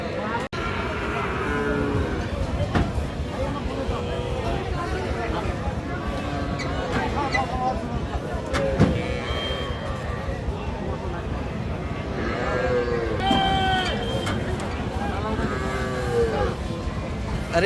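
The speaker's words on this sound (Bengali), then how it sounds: "গরু" Cattle and bulls at a busy rural livestock market in Bangladesh moo repeatedly, some calls near and loud and others farther off, over a constant murmur of crowd chatter.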